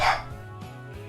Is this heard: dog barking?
yes